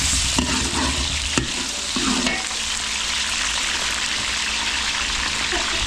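Chicken breast and chicken liver frying in a pan with garlic and onion: a loud, steady close sizzle throughout, with a few stirring scrapes and knocks in the first two seconds.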